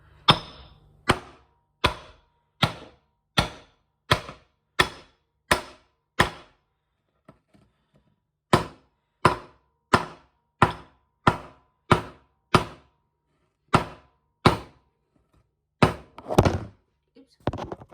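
Sticky dog treat dough is cut into halves on a board with a knife, giving a run of sharp, evenly spaced thunks, close and loud, with a short pause midway and then more chops in the same steady rhythm.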